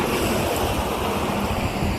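Strong wind blows outdoors beside a bypass road on an overcast day, a steady loud rushing roar buffeting the microphone with no talk.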